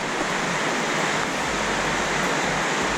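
Steady, dense rushing of a mountain river in Turgen Gorge, loud and continuous with no pauses, like a fast river close by.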